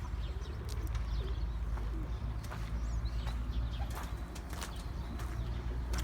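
Pigeons in a coop coo softly at close range amid a steady low rumble, with scattered wing flaps and small rustles breaking through now and then.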